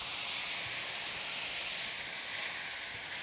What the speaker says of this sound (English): I'm gonna start by deglazing my pan. In this case, I'm using wine.